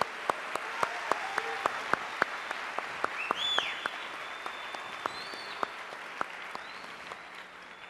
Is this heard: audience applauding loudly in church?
yes